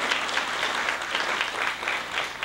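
Steady applause from a graduation convocation audience for the college choir, a dense even patter of many hands clapping continuously with no voices over it.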